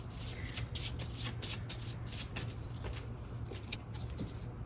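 A deck of tarot cards is shuffled continuously with soft, dense papery riffling, close and fairly quiet, over a faint steady hum and with no voices.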